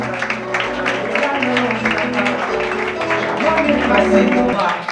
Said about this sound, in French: Applaudissez, applaudissez pour cette dame.